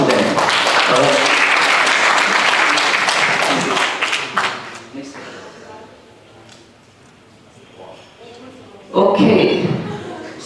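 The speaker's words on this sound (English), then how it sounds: "So give a round of applause to them" An audience at a regional meeting breaks into loud applause that gradually fades into murmuring, then a second short burst of clapping swells near the end.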